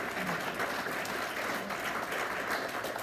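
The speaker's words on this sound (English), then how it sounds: "let's give all those candidates a big round of applause for showing up tonight" A roomful of people at a county party committee meeting applauding candidates, an even, continuous wash of clapping from a crowd at a modest distance.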